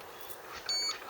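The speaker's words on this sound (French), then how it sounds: "Faites un gros bip si c'est vous." A single short, high electronic beep sounds faintly over quiet background hiss inside an abandoned house.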